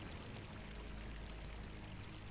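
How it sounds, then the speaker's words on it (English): Water filling a pool in the video game Unreal Gold, a steady soft rushing pour with no change in level, faint and without talk. "So the water rises as just an even level, but it gives the illusion that it's filling up the pool"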